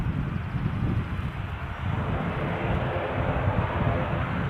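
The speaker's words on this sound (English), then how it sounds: "Here we go, an ATR." An ATR turboprop airliner at Edinburgh Airport gives a steady, broad engine roar with heavy low rumble and some wind buffeting, continuous and fairly loud throughout.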